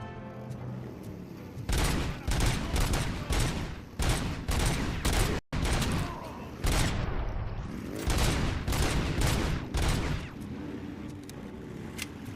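Sustained bursts of gunfire from the PC shooter Robocop: Rogue City, rapid volleys of loud close shots repeating in clusters over about twelve seconds with brief gaps and one abrupt cut.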